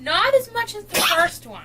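A small dog with a heart problem gives one sharp, brief sneeze close by, set between stretches of a person talking.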